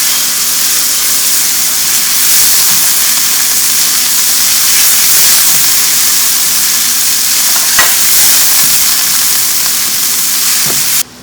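Cauliflower and potatoes sizzle steadily in a frying pan as they are stirred, a continuous close hiss of frying with occasional scraping clicks from the spoon, no voices.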